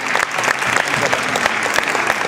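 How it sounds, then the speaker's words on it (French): Applause at the Corsica Masters 2009 chess prize ceremony with Anand and Karpov, a loud, close wash of many clapping hands with individual claps standing out, continuous throughout. "On l'applaudit"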